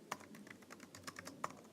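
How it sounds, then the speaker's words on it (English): Soft typing on a computer keyboard, a quiet run of irregular key clicks with a couple of sharper taps, no voices. "I'm having a hard time typing today."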